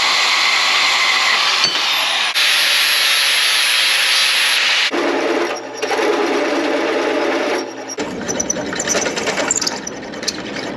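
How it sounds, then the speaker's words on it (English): Welding an eye onto a steel gate latch hoop gives a steady, loud buzzing crackle that shifts in tone partway through and turns rougher near the end, with no talking. "So I'm gonna go ahead and weld that on right now"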